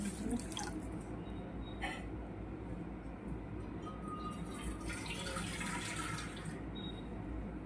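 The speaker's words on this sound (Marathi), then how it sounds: "पाणी टाकून घ्यायचं आहे याच्यात" Steady trickling and splashing of water poured into a dish of Maharashtrian shengule, running continuously with a few brighter drips and splashes, no voices.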